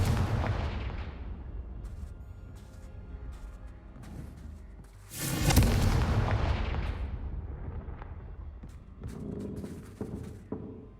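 A Confringo blast spell goes off in the Hogwarts Legacy video game, a booming explosive burst midway that rises from a rumbling backdrop and then rolls away into fading reverberation and scattered smaller pops.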